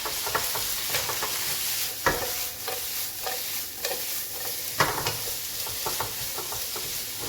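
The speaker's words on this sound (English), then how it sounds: "that's 3 minutes stir frying the veggies" Chicken and vegetables stir frying for chow mein in a hot pan, a steady loud sizzle broken by repeated scraping and tossing strokes at an irregular rhythm, close up with no voices.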